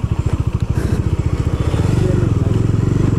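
Motorcycle engine idling and pulsing close by before a ride through the hills of Charmadi toward Chikmagalur, a steady low rhythmic thump that quickens into a faster, smoother drone near the end, with no talk.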